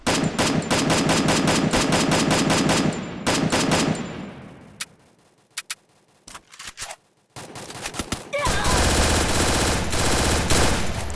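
Rapid automatic gunfire in the Free Fire mobile battle game, long loud bursts that break off into scattered single shots and a quiet gap before another sustained volley resumes.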